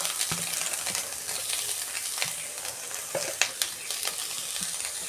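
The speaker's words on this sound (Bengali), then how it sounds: "আমি নারকেলের পাটিসাপটার জন্য আমি নারকেলের ছাই মেরে নিচ্ছি" Coconut filling with patali jaggery for patishapta is stirred in a pan: repeated scraping and knocking strokes over a soft, continuous sizzle, near and clear, with no voices.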